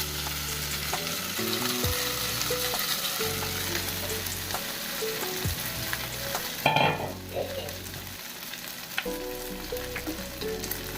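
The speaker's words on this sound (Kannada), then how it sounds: "ಫ್ರೈ ಮಾಡ್ತೇನೆ." Crushed pathrode, a Mangaluru colocasia-leaf dish, fries with curry leaves in a pan, sizzling steadily and close up while a spoon stirs and scrapes in occasional clanks, with no voices.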